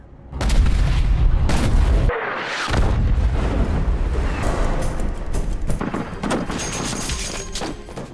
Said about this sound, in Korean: 본부의 자주포 지원을 받아 간단히 쓸어버립니다